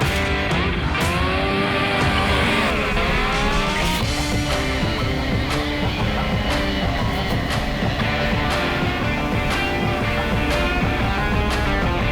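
A car engine revs hard and continuously to clear out its carburetor, a loud, sustained scream with shifting pitch.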